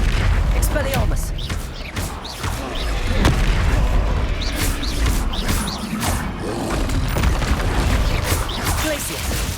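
Combat spells fired in the Hogwarts Legacy video game: a loud, continuous barrage of booming blasts, crackling impacts and whooshes layered over one another throughout.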